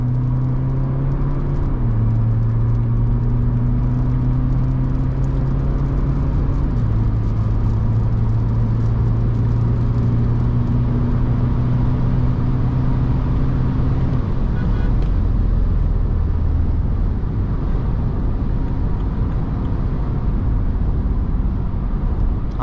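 A modified diesel BMW 3 Series with an M3 body kit accelerates at full throttle, heard from inside the cabin as a loud, steady engine drone that drops in pitch at each of a few gear changes.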